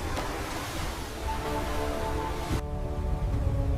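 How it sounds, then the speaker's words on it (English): Roaring waves in a storm at sea, a dense, continuous wash of surf and wind that stays loud and steady throughout, with no voices. "The storm roared louder."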